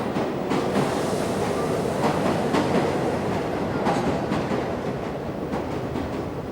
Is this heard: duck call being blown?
no